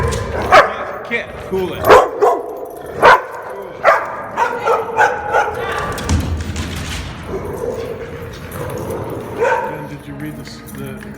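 Dogs bark in sharp, repeated bursts at a dog bar, with some yips and whimpers mixed in. A person calls out and talks among the barking.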